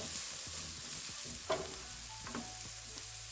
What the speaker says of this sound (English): we're going to add our carrots, which again have been already parboiled. But they won't take as long.